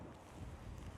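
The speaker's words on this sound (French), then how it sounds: "Oh le vent de fou!" Strong outdoor wind buffets the microphone during an outdoor workout, a loud, continuous low rumble with gusty swells and no talk.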